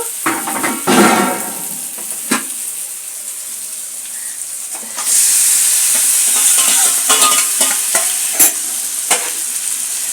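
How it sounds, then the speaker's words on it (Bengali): Marinated chicken coated in spice paste is stir-fried in a wok, with scraping stirs and a soft sizzle that swells into a louder, steady hiss halfway through when the meat goes in. "এইবারে আমি যেই যে মেখে রেখেছিলাম মাংসটা এইটা আবার দিয়ে আবার একটু কষবো"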